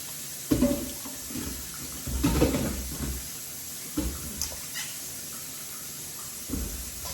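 Running tap water splashes over bowls being rinsed in a sink, coming in several uneven bursts with quieter gaps between, close and moderately loud.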